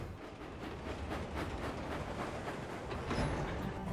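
Thomas the Tank Engine, a steam engine, pulls a heavy train in a steady rumbling clatter of wheels and wagons, with a continuous dense rolling noise and rhythmic clacks.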